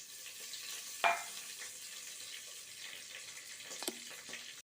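Dried turkey berries, fenugreek and curry leaves fry in a pan for a South Indian buttermilk curry, a soft steady sizzle with a sharp crackle near the start and a few light clinks of stirring.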